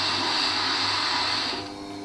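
A Record Power WG250B wet grinder sharpening a carving V tool on a coarsened 200-grit wheel, giving a steady close whirring hiss that drops in level near the end.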